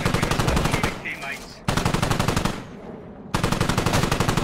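Machine gun fire in the video game Squad comes in loud, rapid, sustained bursts, close to the listener, with brief pauses between strings of shots.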